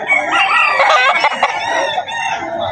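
A rooster crows loudly and close at a pet market in Bocaue, one long drawn-out cock-a-doodle-doo filling the moment with no talk.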